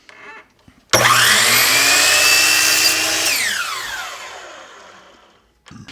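A power saw whines up sharply and cuts across the end of a cedar board in one continuous pass, then spins down. The cut is loud and close, with no talking.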